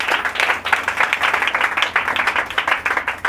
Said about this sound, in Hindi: तालियां हो जाए प्रभु के लिए